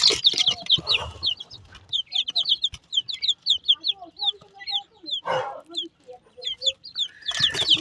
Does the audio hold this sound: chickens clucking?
yes